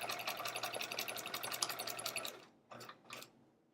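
A sewing machine stitches fabric for an hourglass quilt block in a fast, continuous mechanical run. It stops after about two and a half seconds, then gives two short follow-up bursts. The sound is close and clear, with no voices.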